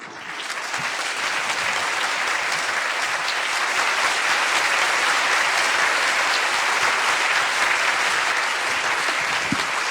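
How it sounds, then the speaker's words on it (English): Loud, dense audience applause for Nia and Bruce Gentle Bear after their talk, a sustained wall of clapping from many hands that holds evenly throughout, with no speech on top. "Let's have another round of applause for Nia and Gentle Bear."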